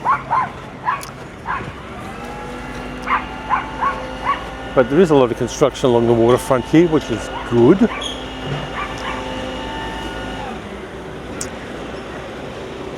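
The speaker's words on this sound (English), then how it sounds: "There's a yappy little poodle there." A yappy little poodle barks in quick, high repeated yaps near a waterfront walk by Altona Pier. Someone talks over it and road traffic hums steadily underneath.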